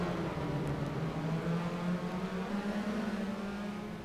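Racing cars drone around a track during a Portland race round, a steady muffled engine hum with a rising pitch as one car accelerates, heard from a distance without talk.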